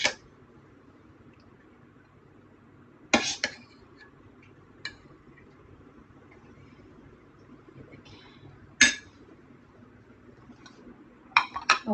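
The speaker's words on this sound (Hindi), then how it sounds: "अब डालती हूँ मैं प्लेटों में" Food is served onto plates in a home kitchen, giving a handful of sharp, isolated clinks of dishes spaced several seconds apart against a quiet, low background hum.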